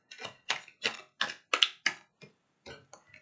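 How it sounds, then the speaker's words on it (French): Tarot cards are shuffled by hand, giving a run of about ten crisp, papery slaps at a quick, regular pace, then a short pause and a few softer taps, close and alone. "on va continuer à battre les cartes"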